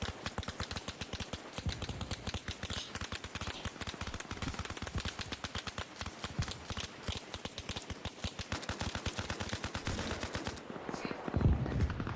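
Rapid automatic gunfire in the video game Arma Reforger, a dense continuous stream of shots for about ten seconds, loud and close, with a heavy thump near the end and faint voices underneath.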